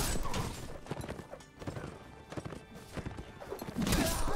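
Horse hooves clip-clop rapidly in a medieval battle game, with a horse neighing amid the galloping and scattered clashes, no talk.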